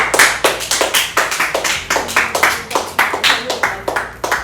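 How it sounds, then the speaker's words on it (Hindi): Rhythmic clapping from a small audience at a birthday celebration show welcoming a team to the stage, loud and close, steady synchronized claps with a few voices mixed in. "तालियां हो।"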